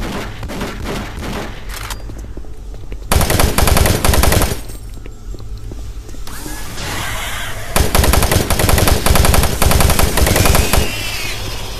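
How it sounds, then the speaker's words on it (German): Gunfire in the video game Doom 3 comes in two long, loud stretches of rapid automatic shots with heavy booms, separated by quieter in-game background noise. "Wer schießt?"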